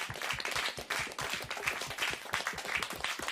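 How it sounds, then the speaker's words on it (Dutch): Audience clapping at a live theatre-style show, a dense steady patter of many hands sustained throughout at moderate loudness with no talk over it. "Dames en heren, applaus voor uzelf allemaal."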